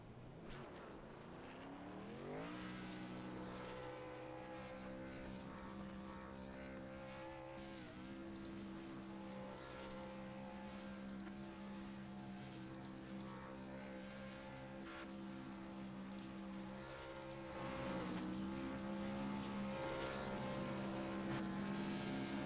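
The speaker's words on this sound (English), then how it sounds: "Derek Stanley goes to do his victory burnouts, his well-deserved ones at that." A race car at Iowa does victory burnouts, its engine droning at high revs with pitch sweeps rising and falling, heard from a distance and swelling louder near the end.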